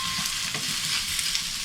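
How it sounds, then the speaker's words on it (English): Courgette goes into a pan of frying aubergine and onions, giving a steady, close, loud sizzle with faint stirring scrapes and no voices. "So now to add the courgette."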